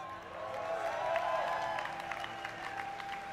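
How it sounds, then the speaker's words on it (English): An audience at the StarCraft 2 USA National Finals esports tournament applauds and cheers briefly, a soft distant swell of clapping heard faintly with tonal hum in the background. "give a cheer for Roots Vibe"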